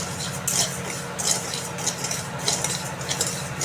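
Rice grains dry-frying in a pan at home for coconut naru, giving a steady close hiss and soft sizzle with intermittent stirring scrapes and light clinks throughout.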